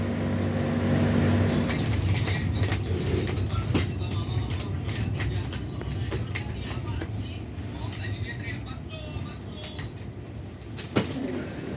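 The Ranggajati passenger train pulls out of the station with a low, steady rumble and mechanical clatter, while pigeons coo nearby and a voice speaks over the scene.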